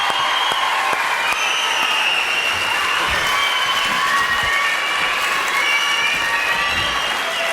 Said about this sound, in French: Encore quelques applaudissements, s'il vous plaît.